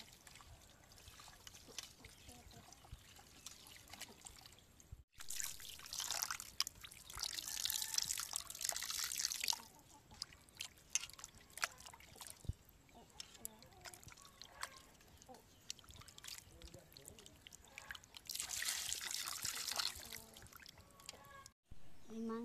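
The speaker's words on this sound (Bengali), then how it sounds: "আমরা ভালোভাবে মাংসটা ধুয়ে নিব।" Water trickling and splashing as chicken meat is washed by hand in a rural village kitchen, coming in two louder bursts separated by quieter dribbling and handling.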